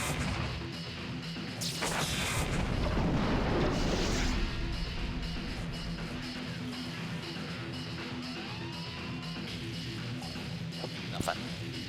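Carpet-bombing explosions in the tank game War of the Human Tanks, a dense rumbling barrage of crashes and booms that swells early and then fades into a sustained, noisy battle din.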